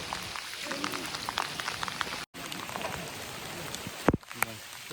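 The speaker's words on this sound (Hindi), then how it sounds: "बारिश बहुत आ रहा है" Heavy monsoon rain pours steadily on surfaces in a hilly eastern setting during an election repoll, a dense hiss throughout with a brief dropout and a sharp knock near the end; voices speak faintly underneath.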